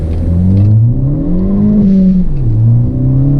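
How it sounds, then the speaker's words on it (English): A 2013 Ford Focus ST accelerating hard in first gear from inside the cabin, its loud engine drone climbing in pitch, easing slightly and rising again, with no talking. "It definitely spins the tires, and you get some torque steer for sure."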